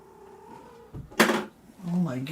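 A house cat in a home that has just knocked things over makes short vocal noises around a sudden, loud clatter, with a human voice also present.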